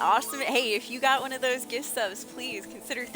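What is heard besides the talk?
None of the usual background noises is heard.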